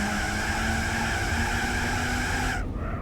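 Tires squeal and skid without traction as a car slides in Gran Turismo 4, a loud sustained screech over engine drone that cuts off abruptly near the end.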